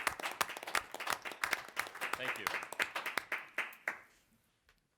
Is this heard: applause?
yes